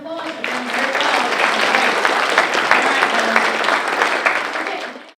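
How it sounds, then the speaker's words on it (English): Audience applause for contestants at a district geography bee, a full, even burst of clapping lasting about five seconds before cutting off abruptly, with a voice faintly heard at the start. "let's give them a big round of applause."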